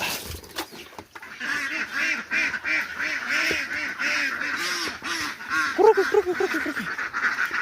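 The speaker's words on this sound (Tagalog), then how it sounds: "Papakain ta na po ito sa ating mga alagang itik." A flock of domestic ducks honks and quacks steadily while being fed. The loud, repeated calls overlap one another, and a voice is faintly heard beneath them.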